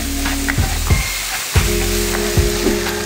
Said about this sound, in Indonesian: Ini kita masak bawang putih, bawang bombay dan juga jamur.